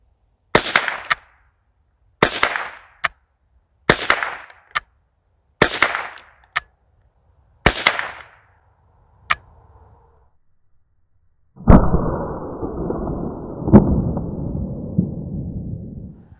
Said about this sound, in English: Tube fed, semi-automatic 22 long rifle. Let's put a few rounds through this.